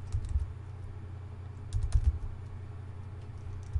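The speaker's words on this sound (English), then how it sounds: "So I'm going to type that in." Computer keys clack under quick typing of a database name, bursts of close keystrokes separated by short pauses in a quiet room.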